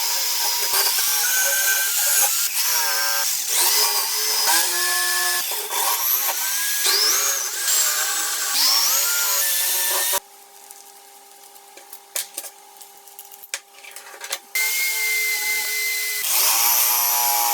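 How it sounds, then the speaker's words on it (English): An electric drill spins a wire brush bit against a rusty tree pruner, a loud whining grind with rising and falling pitch as pressure changes, pausing into quieter scraping and clicks before the whine resumes. "First we're going to wire wool it with a wire drill bit."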